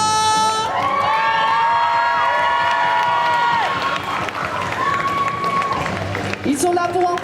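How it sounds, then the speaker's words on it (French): An audience at a cosplay contest stage event cheers, shouts and claps in a steady loud wash, with an announcer's amplified voice over it. "On les applaudit bien fort."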